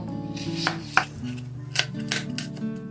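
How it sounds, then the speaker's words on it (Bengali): A knife chops two onions into pieces on a board, a handful of crisp separate cuts over a steady background hum, close and moderately loud, with no voices. "পেঁয়াজ দুটো আমি টুকরো টুকরো করে কেটে নেব"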